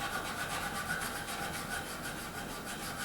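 Sandpaper rubbed over wood during a dovetail neck reset on a guitar, a steady, close, continuous scratchy rasp with even back-and-forth strokes and no talking.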